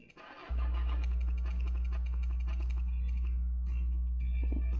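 In a retro garage car-repair video game, an overheating car engine cranks briefly and catches, settling into a loud, steady low idle hum with scattered clicks over it.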